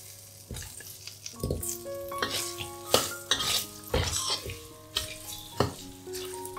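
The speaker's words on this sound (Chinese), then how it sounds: "放入马铃薯，炒一炒。" Potatoes and curry leaves stir-fry in a pan for a vegetarian curry: a lively sizzle under repeated spatula scrapes and bright metallic clinks, coming in an uneven rhythm about once a second.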